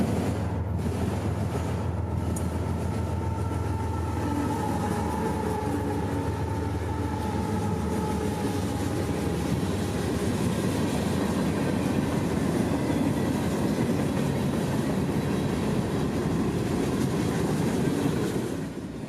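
Freight train X852, a 197-car consist led by three big six-axle locomotives, rumbles steadily past at close range, with a continuous loud roll of wheels and rail noise and low engine drone throughout.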